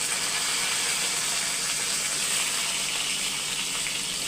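Mustard seeds and cumin spluttering in hot oil for a raw banana fry, a steady close hiss and crackle running unbroken throughout, with no talk.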